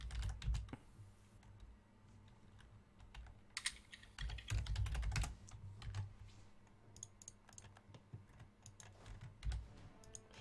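Computer keyboard typing during an online multiplayer strategy game session, quiet irregular bursts of key clicks with pauses between runs, close to the microphone and heard alone.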